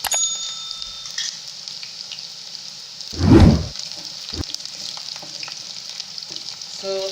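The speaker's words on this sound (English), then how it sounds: "And let my onions cook." Onions cook in a pan for a tilapia stew, giving a faint, steady sizzle throughout, with one louder burst of stirring and spitting partway through.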